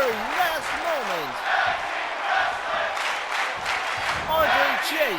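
A tag team wrestling crowd screams and shouts throughout as a pin attempt ends in a last-second kick out, loud and continuous, rising again near the end.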